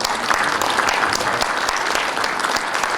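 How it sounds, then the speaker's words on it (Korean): A breakfast seminar audience in Seoul gives sustained applause for a visiting agriculture minister. The clapping is dense and even, with crisp individual claps standing out from the crowd. "박수 한번 주십시오"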